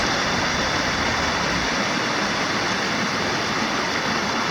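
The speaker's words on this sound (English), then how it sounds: "The waterfall section, and then it just goes down and down." An alpine stream drops over a waterfall, a constant loud broadband rush of falling water close by, heard alone without voices.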